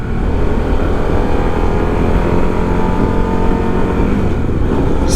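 A 2024 Harley-Davidson CVO motorcycle engine revs hard in second gear past 5,000 RPM, a loud, steady, close drone that holds without letup throughout.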